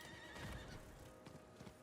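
Horse hooves clip-clop steadily in Diablo IV, a soft rhythmic trot with a whinny, quiet game audio with no voices.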